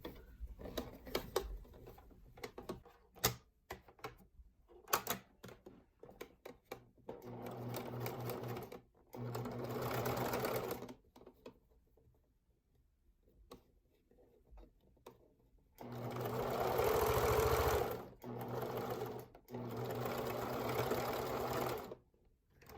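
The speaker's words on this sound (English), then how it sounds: "I'm going to sew my final side seam" A sewing machine stitches the side seam of lace underwear in several bursts of rapid whirring, close and clear, separated by quiet pauses and small handling noises.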